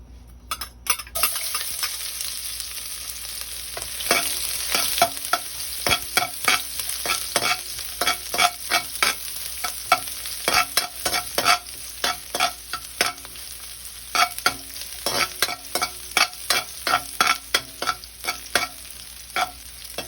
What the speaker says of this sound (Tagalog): Panggisa rin ang gawin natin sa bawang.